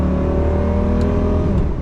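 A Lamborghini Gallardo with a single-clutch gearbox drives by, its engine a loud, close, steady roar that continues without a break.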